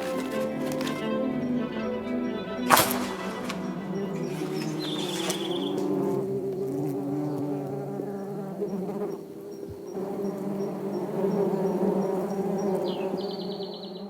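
A dense, continuous buzzing of many hornets around their nest in a tree fills the air, steady and close, with a sharp tap and a few brief higher whines.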